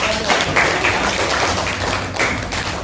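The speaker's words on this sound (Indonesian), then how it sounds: "Kasih tepuk tangan dulu" Primary schoolchildren in a classroom clap together in a loud, dense burst of applause that fills the room, with scattered thumps and taps mixed in and no clear talking.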